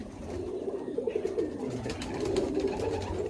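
Pigeons in a loft coo in low, soft, repeated calls that overlap in a close, continuous murmur, with faint rustling and background noise.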